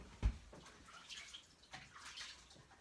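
Running water from a kitchen tap as hands are washed during meal prep for turkey meatballs in tomato sauce, a soft, steady hiss of flow with light splashes, fairly quiet and alone.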